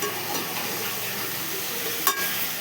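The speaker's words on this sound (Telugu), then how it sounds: "పచ్చికారం వేసి కలపాలి బాగా" Brinjal curry being stirred after green chili powder is added, with a steady soft sizzle and scraping in the pan and one brief sharper clink near the end, no voices.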